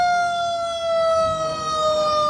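Siren wailing from the Spencer Forest Fire pickup truck rolling in a holiday parade of lights, a steady loud tone sustained throughout with faint crowd and engine noise beneath.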